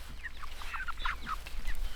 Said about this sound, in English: Chickens.